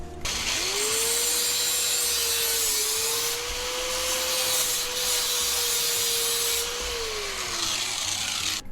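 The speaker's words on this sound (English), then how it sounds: "Let's get the angle grinder out again." An angle grinder cuts sheet metal in a steady, loud, close whine that holds a sustained pitch for several seconds and then trails off as the cut ends, with no talking.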